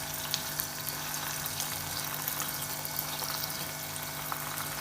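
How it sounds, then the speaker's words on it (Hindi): A mooli paratha fries in homemade desi ghee, giving a steady, dense sizzle that stays even and close throughout with no talking. "अब हम इसको ऐसे उल्टा लेंगे और दोनों तरफ से हम अब इसे घी में पकाएंगे।"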